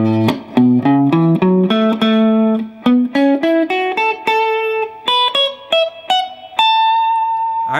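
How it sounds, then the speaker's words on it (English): An electric guitar plays a classic riff built from the major pentatonic scale in its D-shaped position, a clear, up-front run of plucked notes climbing steadily in pitch, alone without talk. "It's a very cool classic riff being built from the major pentatonic scale in its D-shaped position"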